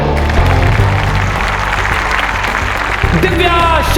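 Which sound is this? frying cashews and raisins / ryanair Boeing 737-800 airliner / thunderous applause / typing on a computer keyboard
thunderous applause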